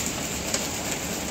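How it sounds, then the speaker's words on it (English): Small hail falls during a storm, a dense steady patter of ice pellets striking the ground close by, with a faint crisp tick or two standing out. "It's hail."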